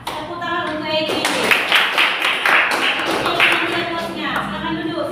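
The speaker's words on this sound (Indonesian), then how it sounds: "Tepuk tangan untuk Egi." Classroom applause from students in an Indonesian primary school lesson, a burst of clapping that swells in the middle and fades, with voices of children and a teacher talking through it.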